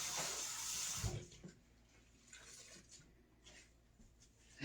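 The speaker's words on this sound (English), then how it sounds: "Let me rinse my hands again" Tap water runs steadily into a kitchen sink while hands are rinsed, a loud continuous hiss for about a second that then drops to softer splashes and trickles with scattered clinks.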